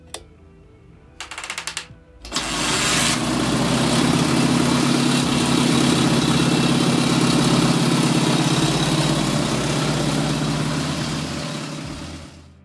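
A neglected 1945 Soviet M-72 flathead motorcycle engine cranks in a few short bursts, then catches and settles into a loud, steady running rumble for several seconds before easing off at the end.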